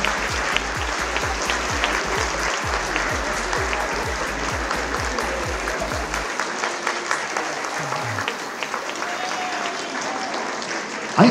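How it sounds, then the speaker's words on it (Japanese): Sustained applause from the audience at a ballroom dance championship, dense clapping throughout, with a low rhythmic thump in the first half that then drops away, leaving the clapping alone. "会場の皆様、タキシード社交男子に今一度大きな拍手を申し上げます。"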